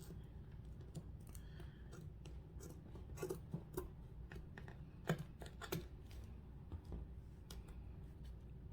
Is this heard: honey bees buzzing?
no